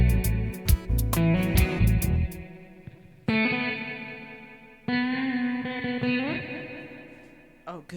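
An electric guitar runs through an amp with only reverb applied, ringing out in sustained chords and single struck notes whose tails bloom and decay into a wet, spacious wash.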